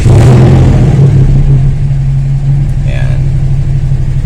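A warm Toyota Corolla Bigbody GLi engine idling at high RPM with a loud, steady, close rumbling hum throughout, while someone briefly speaks nearby.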